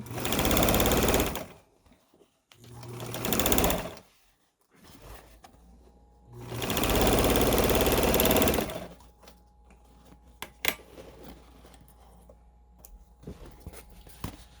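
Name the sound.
sewing machine sewing chenille fabric tote bag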